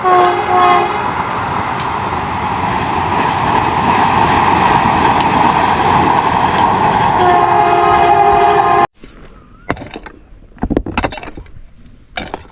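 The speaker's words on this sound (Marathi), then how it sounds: "आणि काय ट्रेन वाटते यार एक नंबर तर" A Vande Bharat Express train rushes past close by in the Konkan countryside, a loud continuous roar of wheels and wind with horn-like tones, then cuts to quieter outdoor sounds with faint knocks.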